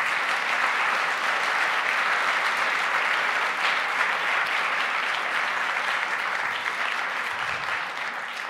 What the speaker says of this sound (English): this is your very own applause